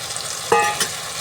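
Cooked mutton frying with brinjal and soft tomatoes in a pan, a close sizzle broken by a brief stirring scrape, no voices.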